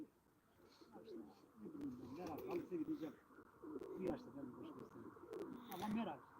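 Pigeons from a long-kept single bloodline coo steadily in a loft, a soft continuous murmur of overlapping calls up close while people talk nearby.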